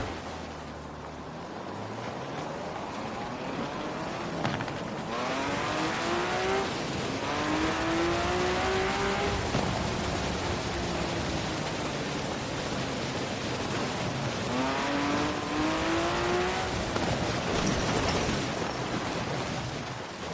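A car in the racing game Forza Horizon 4, driven with a Thrustmaster TMX wheel, revs and shifts through its gears over a steady wash of tire and road noise. It stays loud and continuous throughout, with no one talking.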